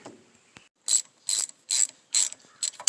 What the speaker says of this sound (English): when you're tightening it up, make sure just to kind of barely snug them all.